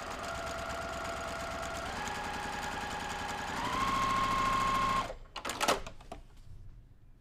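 A sewing machine runs steadily while stitching along marked lines on a quilt block, its motor whirring in a continuous mechanical drone that rises in pitch midway, then stops abruptly into a few short bursts of handling noise.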